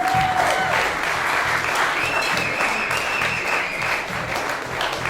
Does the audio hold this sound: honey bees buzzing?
no